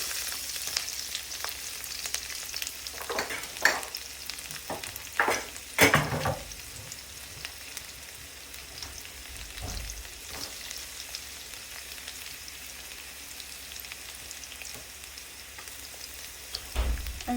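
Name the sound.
garlic frying in oil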